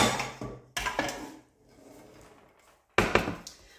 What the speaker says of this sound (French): Alors, pour faire la pomme, on prend une poêle.